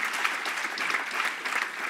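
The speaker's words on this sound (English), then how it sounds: "Give Chris a big round of applause." An audience gives a round of applause at a public event, steady dense clapping from a crowd for a couple of seconds.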